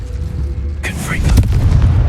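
A Confringo blasting curse from Hogwarts Legacy goes off as a sudden loud burst partway through, followed by a rumbling crackle of debris that carries on to the end over a steady low game background.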